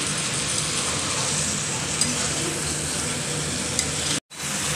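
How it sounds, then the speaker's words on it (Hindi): Chicken frying in a pan for a masala chicken curry, giving a continuous close, loud sizzle with a few light stirring knocks before a short drop to silence near the end. "चिकन को थोड़ी देर फ्राई होने देंगे।"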